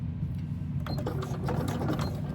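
A sewing machine back stitching the eyes on a handbag, running in a steady fast whir with rapid needle ticks, close and fairly loud, with no talking.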